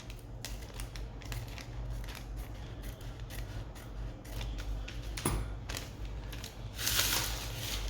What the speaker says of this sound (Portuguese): eu vou cortar, já com o meu molde aberto, essa linha da boca do bolso